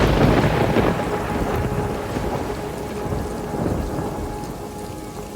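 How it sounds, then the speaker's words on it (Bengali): Heavy rain pours steadily while low rumbles of thunder roll underneath, a dense, continuous storm with no voices. "ঘন ঘন বাজ পড়ার শব্দে বুকের ভিতরটা পর্যন্ত কেঁপে উঠলো আমার"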